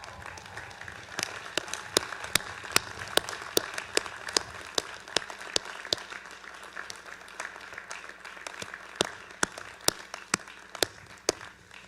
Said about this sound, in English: give their families and friends a round of applause in appreciation for the unwavering support